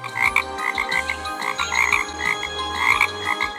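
A talking frog in a real-time strategy game croaks in a rapid, rhythmic series of loud, throaty calls, close and continuous over a low pulsing game background.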